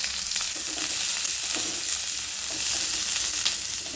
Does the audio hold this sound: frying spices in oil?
yes